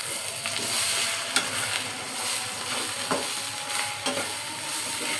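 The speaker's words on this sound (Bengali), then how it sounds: "এখন আমি লেড়ে দিব।" Beef for biryani frying in a pan, a constant close hiss and sizzle with repeated scraping clicks of a spoon being stirred through the meat.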